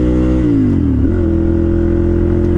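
Ducati 796 Monster motorcycle engine under riding, a loud continuous drone whose pitch sinks as revs fall, then settles into a steady lower hum.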